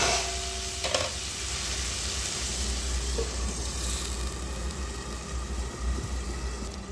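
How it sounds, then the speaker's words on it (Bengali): Pumpkin stir-fry frying in a pan, giving off a steady, close, dense sizzle that holds evenly throughout with a faint background hum and no talking. "জোরটা খুব বাড়ি দিয়ে একটুখানি ভাজা ভাজা করে নামিয়ে নেবে"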